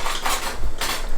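Forks and spoons jangling in a kitchen cutlery drawer as someone digs for a fork, two or three quick bursts of close metallic clatter.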